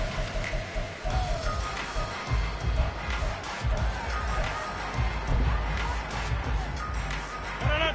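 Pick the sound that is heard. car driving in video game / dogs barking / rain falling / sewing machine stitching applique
rain falling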